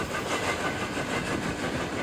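A train rolls past close by at White Sulphur Springs, West Virginia, a loud, dense rumble with rail clatter and wind noise filling the whole stretch, steady and unbroken, with no voices.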